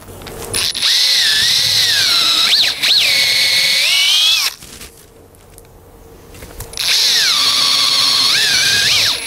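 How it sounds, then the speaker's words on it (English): A power drill whines at high speed, pitch dipping as it bites into wood to remove stock for a tusk tenon joint, pausing briefly before a second long burst; no talking. "And I'll drill that out first of all"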